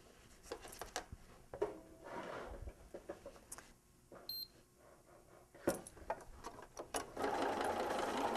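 Sewing machine stitching around a heart shape drawn on Texture Magic fabric, a steady mechanical whir with short stops and restarts, running loudest near the end.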